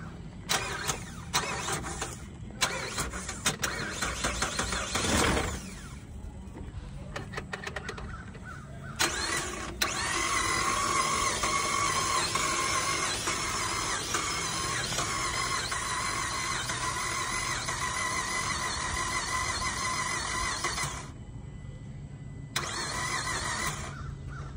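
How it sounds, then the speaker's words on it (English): A 2010 GMC Acadia at a police auction lot cranks in several short, stuttering bursts. It catches for a moment with a brief engine surge, then shuts off, and crows caw faintly nearby. "Tried to start for one quick second there and then shut right back off."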